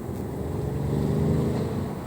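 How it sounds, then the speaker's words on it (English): A twin-turbo Audi RS6 Avant wagon pulls hard on the freeway, its engine droning in a steady, loud, rising roar heard from inside the cabin for about two seconds with no talking. "you still have the induction noise, the whistling, the twin turbo noise"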